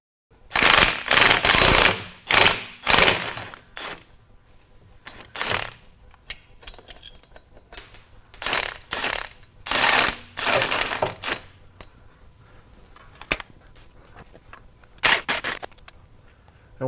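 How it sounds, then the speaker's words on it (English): An impact wrench with a swivel socket rattles off bolts on the driveshaft of a 2003-2010 Porsche Cayenne, loud close bursts of rapid hammering separated by pauses, some short and some longer, with a few small metallic clinks between. "Having an impact with a swivel socket should help"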